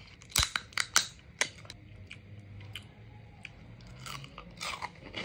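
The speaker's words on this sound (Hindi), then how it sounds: "ये तो फुल मतलब प्रॉपर क्रंची हो रही है ये" Close-up mukbang eating of crunchy fast food from a Pakistani food chain: several sharp, loud crunching bites up front, then quieter chewing and small clicks, with no talking.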